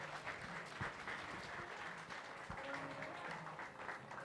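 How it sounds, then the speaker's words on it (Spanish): Audience at a talk series applauds to welcome a speaker, a fairly quiet, steady patter of clapping from a modest crowd with a few louder close claps and faint chatter mixed in. "quiero que le demos un gran aplauso a Gil."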